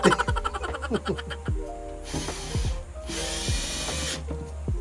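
A power drill drives a screw during installation of a toilet in a converted bus home, whirring in short bursts with pitch rising as the motor spins up, interspersed with clicks and handling knocks.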